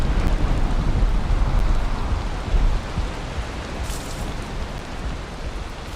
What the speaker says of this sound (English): Yippee, it's raining again.